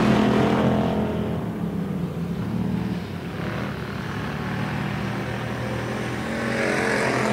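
Wissota Pure Stock race cars running a heat on a dirt oval track, loud sustained engine roar that swells and fades slightly as the pack passes, with no voices over it.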